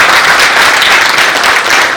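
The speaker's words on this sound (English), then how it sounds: "Ladies and gentlemen, big round of applause." Loud, dense applause from a large audience at a leadership awards ceremony on stage, steady and sustained throughout with no voices over it.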